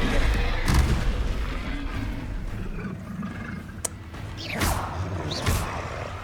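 A Confringo fire-blast spell explosion in the Hogwarts Legacy video game, a booming roar with whooshing blasts over dense, continuous battle noise, loud and close.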